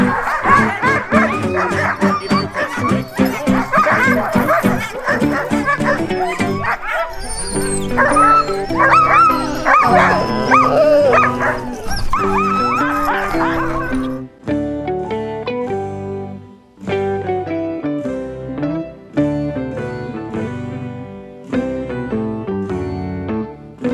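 Sled dogs gather before an Arctic night sled run toward an ice cave in Spitsbergen, Norway, making a loud, continuous chorus of yips, barks and drawn-out howls that later breaks into separate bursts.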